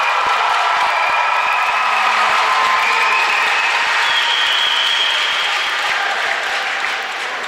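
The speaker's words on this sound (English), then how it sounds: "Another big round of applause for the Clarington Eagles" Sustained applause and cheering from an arena crowd at a junior hockey championship final, honoring the Clarington Eagles as Schmalz Cup finalists; steady, dense clapping throughout, loud and unbroken.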